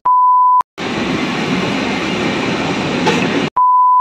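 A steady rumbling roar of a moving train with a vistadome coach, travelling from Kolkata toward Bolpur, fills the space between two short electronic tones at the start and end.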